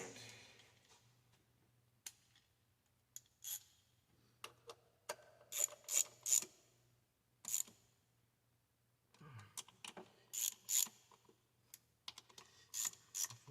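Ratchet clicking as thermostat housing bolts are tightened on a 2003 Saab 9-5 3.0 turbo, with quiet, close bursts of ticks separated by pauses.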